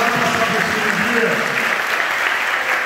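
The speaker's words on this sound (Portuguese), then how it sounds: "E aplaude ele bem forte." A church congregation applauds loudly, with continuous dense clapping and no break from start to finish.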